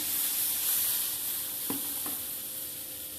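Stingfish curry with bitter gourd, onion and salt simmering in a pan, a dense continuous sizzle with two brief scraping strokes of a spoon midway, close and fairly loud with no talking.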